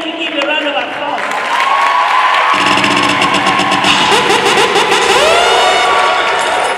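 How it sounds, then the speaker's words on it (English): At an all-girl robotics competition, a crowd of girls cheers and applauds loudly, shrill voices and whoops rising over clapping and building into a sustained, noisy roar close by. "Girls, let me hear you give a round of applause"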